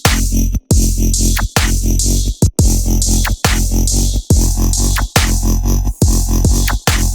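Dubstep bass patch in Serum with phase distortion, a loud, dense, growling synth tone in repeated sustained bursts separated by brief gaps, with no talking.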